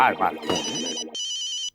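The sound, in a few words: telephone ringing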